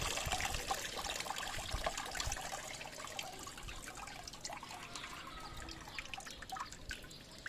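Water being squeezed out onto succulents planted in styrofoam, heard as soft trickling and scattered drips, close and quiet, continuous throughout.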